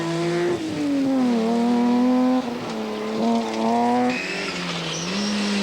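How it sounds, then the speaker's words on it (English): Ford Sierra V6 rally car on a stage in a 1994 rally, engine loud and close with revs climbing and dropping through gear changes, whining harmonics and a brief tyre scrabble. "More straightforward brute horsepower came in the form of Roger Duckworth's Sierra V6"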